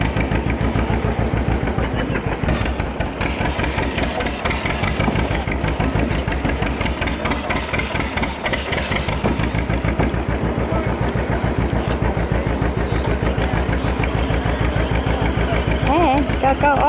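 A remote control pulling vehicle strains its engine with a loud, steady buzzing drone while its tires spin, the sound continuous and close throughout.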